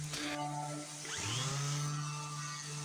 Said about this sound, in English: More sanding, and then more running the grit gambit, 120, 150, and 220.